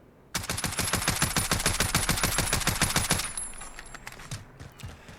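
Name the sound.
full-auto VKS rifle fire in video game Call of Duty Modern Warfare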